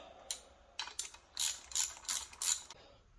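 Hand ratchet snugging bolts during reassembly of a 25 lb Jardine/Canadian Giant grinder, a quiet series of about six quick clicking bursts close by with no talk.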